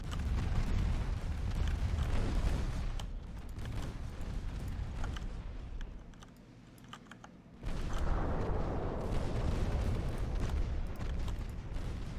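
Warship secondary batteries firing in the naval game Ultimate Admiral: Dreadnoughts, a dense rapid crackle of gunfire and booms that drops off briefly then resumes at full intensity, steady and loud with no talking.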